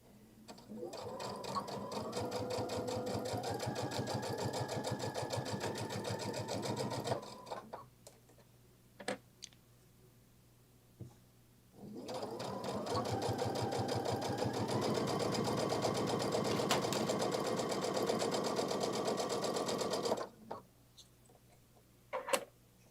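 A sewing machine stitches a bag in two long runs of fast, even mechanical ticking, each about seven to eight seconds, close and steady, with brief quieter pauses where a person talks.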